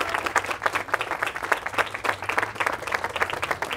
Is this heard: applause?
yes